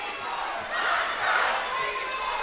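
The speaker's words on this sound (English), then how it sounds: "let alone a crowd this size and as loud as it is" A loud, packed crowd roars continuously at a basketball regional championship game, a dense wash of voices and cheering that swells midway, with no distinct words.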